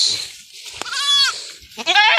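A goat bleats twice, loud and close, each call wavering and nasal, with a short pause between them.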